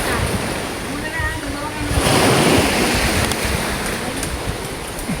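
Sea waves washing onto a tropical shore, a steady broad roar that swells briefly, with gusty wind buffeting the microphone and faint voices nearby.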